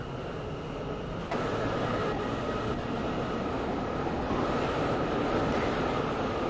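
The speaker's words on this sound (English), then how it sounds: "The train now approaching platform 4." A train pulls into an airport station platform in the Roblox Stepford County Railway game: a steady, loud rumbling roar of wheels and motors that swells slightly partway through, with no talk.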